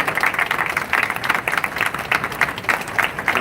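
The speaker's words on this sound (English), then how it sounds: "So huge round of applause to him." An audience claps together at a WhiteWater press conference at IAAPA 2019, with loud, continuous, even applause sustained for a few seconds.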